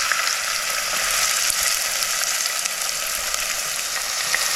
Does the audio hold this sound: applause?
no